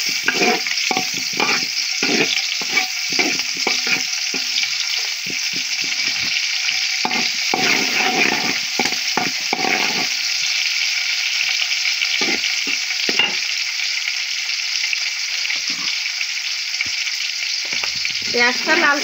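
Ground onion paste frying in a pan for a fish-head curry, a steady close sizzle with intermittent stirring scrapes and clinks running throughout, with no talking.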